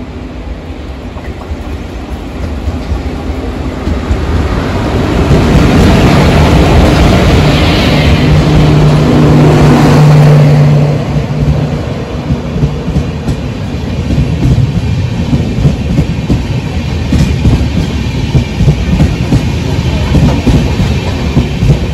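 The Tutari Express runs along the Konkan Railway in monsoon weather with a loud, sustained rolling roar and rhythmic wheel clatter that swells in the middle, briefly adding a tonal squeal, then carries on steadily.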